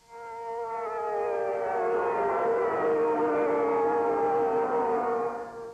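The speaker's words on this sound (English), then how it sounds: "air raid sirens sent people racing to shelters" An air raid siren wails over Riyadh, Saudi Arabia, during the 1991 Gulf War, a steady sustained tone that swells in and holds loud and alone for several seconds.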